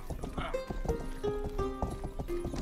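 Horse hooves clip-clop in the video game Rustler, a quick, steady trot of close hoof beats over a hum of game sound and music.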